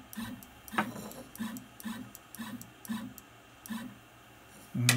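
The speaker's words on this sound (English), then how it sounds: "So I'm going to jog the machine over a little bit more." A CNC carving machine being jogged into position in a workshop gives off a series of short, evenly spaced stepper-motor whirs, each a brief hum with a click. They repeat about twice a second at moderate level, and a louder burst comes at the end.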